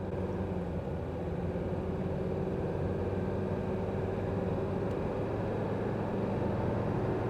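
An old Mercedes 300D diesel pulls away from a stop and shifts up through its gears, a steady droning engine and road noise heard from inside the car.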